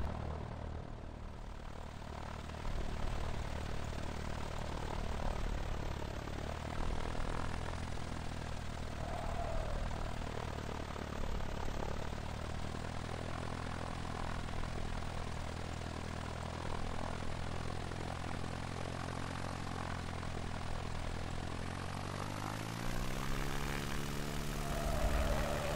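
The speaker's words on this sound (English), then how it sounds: "takeoff was a little bit longer than the last time" A propeller aircraft engine in the X-Plane 11 flight simulator hums steadily through a takeoff run, a moderate droning tone that rises in pitch near the end as power builds.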